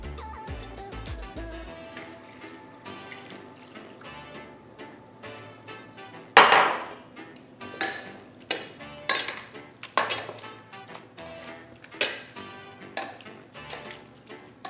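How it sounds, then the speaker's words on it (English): Spoon scraping and clinking against a bowl while chicken enchilada filling is stirred together with enchilada sauce, a steady run of close, sharp ticks and knocks with no talking. "So now we're going to add the enchilada sauce to the bowl, and after that we're going to mix everything together."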